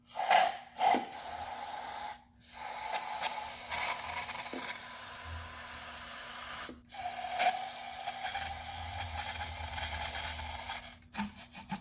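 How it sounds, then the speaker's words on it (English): Long bursts of hissing aerosol brake cleaner sprayed into a spark plug hole of a 2003 Toyota Corolla engine, several in a row with short pauses between, close and steady. "the way I usually clean my spark plug holes is by spraying a little bit of brake cleaner"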